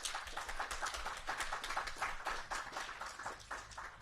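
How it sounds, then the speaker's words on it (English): Audience at a Groundswell farming talk applauding two speakers: dense, continuous clapping from a sizeable crowd, moderately distant and fairly soft, holding steady before easing slightly toward the end. "A quick round of applause for our two speakers."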